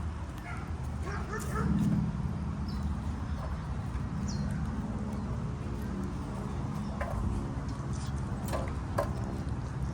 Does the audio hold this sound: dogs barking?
yes